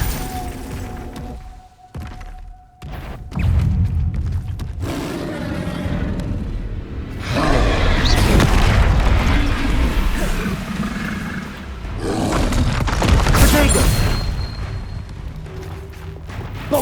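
Spell blasts and explosions in the Hogwarts Legacy video game, a run of booming impacts and crackling bursts that swell and fade in loud waves after a brief quiet opening.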